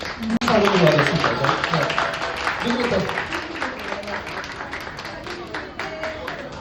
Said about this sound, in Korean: 박수 받으며 입장